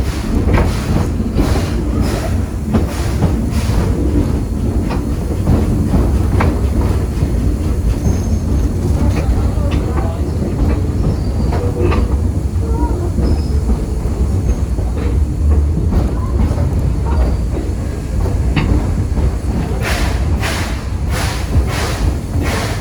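A train ride in Edison, rail cars rumbling and clattering steadily on the track with rhythmic clicks and occasional wheel squeals, loud and continuous from on board, with no talking.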